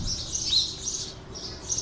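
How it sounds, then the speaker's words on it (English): Noisy outdoor birds chirp in quick, repeated high tweets, fairly close and clear over a faint low background hum. "The birds, I said, they're very noisy."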